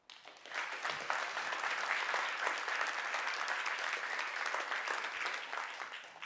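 An audience at a talk applauds as a show of support, a steady, moderately distant wash of clapping that swells and holds for several seconds.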